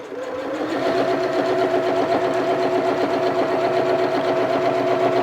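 A domestic sewing machine driven by a Grace Quiltmotion automation system starts up and settles into a steady, rapid mechanical whirr with rhythmic needle chatter, close and continuous.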